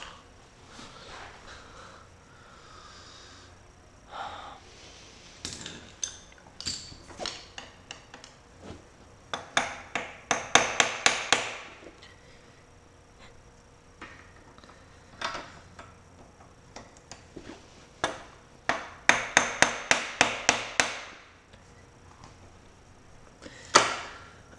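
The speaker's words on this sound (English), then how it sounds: "I like to tap my Phillips screwdriver into the head so that if it's a little stripped out and there are burrs, it'll kind of pound the screwdriver in there" Hammer tapping a Phillips screwdriver into a stripped, burred screw head on the kickstart lever of a Honda XL125, in clusters of sharp metallic taps, close and crisp, with short pauses between bursts.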